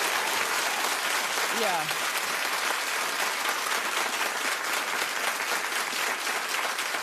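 Loud, sustained studio audience applause filling the room throughout, dense steady clapping with a brief voice calling out once.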